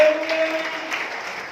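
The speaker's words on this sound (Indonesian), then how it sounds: "Tepuk tangan bagi Tuhan Yesus." A church congregation applauding, a brief, steady wash of clapping at moderate loudness with a faint sustained tone underneath, fading slightly toward the end.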